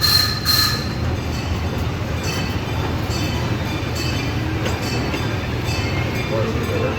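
Amusement park train ride rolling along its track at Indiana Beach, a steady close rumble of wheels and cars with occasional squeal and clatter, continuous through the whole stretch with faint voices in the background.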